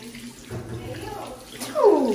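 Water runs from a tap in a bathroom as a steady rush, swelling louder near the end, with voices talking over it.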